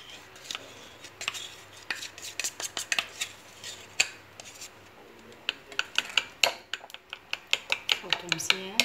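Melted chocolate cake batter mixed in a bowl with added ingredients, giving a steady run of close, sharp clinks and scrapes of a utensil against the bowl, alone without talk.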